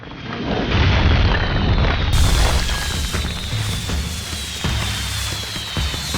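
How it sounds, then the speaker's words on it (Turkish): Big explosion in the Max Payne 3 video game: a loud, sustained low rumbling blast that holds for several seconds and slowly fades, with debris crackle, no talk. "Büyük patlama olacak."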